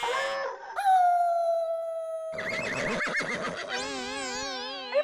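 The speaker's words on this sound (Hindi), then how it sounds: "अरे पण जेठा भाई, एवी रीते कुत्ता किसी को काटेगा" A dog howls in long, wavering tones, several drawn-out cries in a row with rising and quavering pitch, loud and close with no talking over them.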